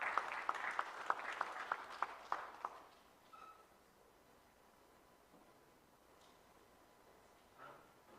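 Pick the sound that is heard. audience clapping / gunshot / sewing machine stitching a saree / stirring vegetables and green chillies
audience clapping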